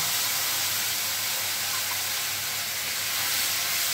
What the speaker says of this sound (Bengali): আমি প্রথমে মিক্সিতে বেটে রাখা মশলাটা কড়াইয়ের মধ্যে দিয়ে দিচ্ছি